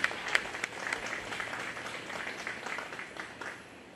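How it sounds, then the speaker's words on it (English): Outdoor applause rises for the exhibitors at a 4-H and FFA goat show at the Greene County Fair. It is a faint, fairly distant patter of scattered clapping that swells briefly at the start and thins out over a few seconds. "Let's give those exhibitors a round of applause."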